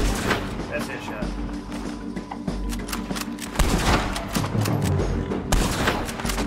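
Gunfire in the Red Dead Redemption 2 western video game: a run of sharp, loud shots and booms sounds at irregular intervals over a steady game soundscape, with someone talking over it.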